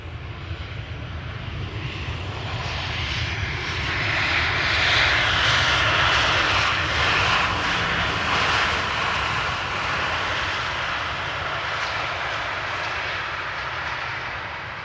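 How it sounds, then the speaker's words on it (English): A Sun Express Boeing 737-800 touches down at Amsterdam Schiphol after a flight from Kayseri, its engines a steady, loud broadband roar that swells near the middle and then holds through the landing roll. "Arriving from Kayseri in Turkey, Boeing 737-800. Touching down after exactly 4 hours of flight according to flight radar."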